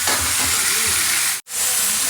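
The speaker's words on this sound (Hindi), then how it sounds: "इसको अभी छौंक लगा के इसको मसाला पकाना है इसमें" Spice masala hits hot oil for tempering, giving a loud, steady, hissing sizzle close by that cuts out for a moment before resuming.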